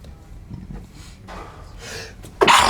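A single sharp sneeze bursts out loudly at the end, preceded by quiet breathing and faint background sounds.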